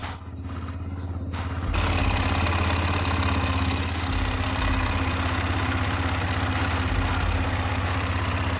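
A freshly started motorcycle engine idles close by, a steady low rumble with regular ticking that grows louder in the first two seconds and then holds even.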